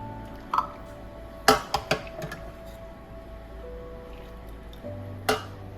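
Ramen broth and tare mixed together for beef miso ramen, with a few light clinks and taps of a utensil against a bowl, then quiet stirring and another clink near the end.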